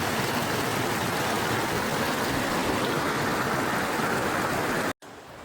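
A waterfall and a mountain stream rush in a hilly place, making a loud, steady broadband roar that cuts off abruptly near the end.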